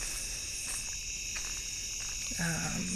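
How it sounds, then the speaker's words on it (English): Steady, loud high-pitched cicada buzzing fills the clip at night near a beach, a constant dense drone with brief faint movement sounds beneath it. "the cicadas are way louder than even my speaking voice"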